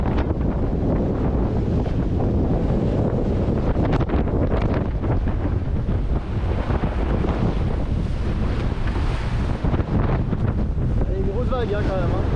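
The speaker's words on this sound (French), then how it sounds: "Il y a une grosse vague hein, quand même." Strong wind and heavy breaking waves batter a sailboat on the open ocean during a passage from Tahiti to New Zealand, a continuous loud roar with buffeting wind on the microphone and rushing water throughout.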